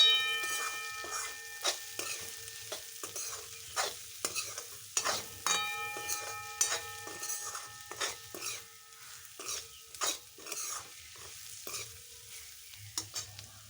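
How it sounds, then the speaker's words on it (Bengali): A spatula stirs chili powder and turmeric through boiled eggs frying in a pan, giving repeated scraping strokes over a soft sizzle with occasional light clinks, close and fairly quiet, with no talk. "লঙ্কার গুঁড়ো পরিমাণ মতো দিয়ে ভালো করে নাড়াচাড়া করে নেবো"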